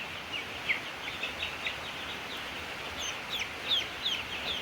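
Young meat chickens under heat lamps chirp in a busy brooder, repeated high peeps scattered irregularly over a steady background hum, moderately close and with no talking.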